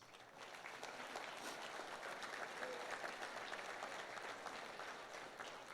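A church congregation applauds steadily, a dense even wash of clapping that holds at the same level from start to finish, with no voices rising above it.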